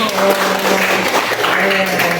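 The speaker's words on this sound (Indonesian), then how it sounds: "Oke, tepuk tangan dong." A small group in a classroom claps for a couple of seconds, steady and moderately loud, with voices murmuring underneath.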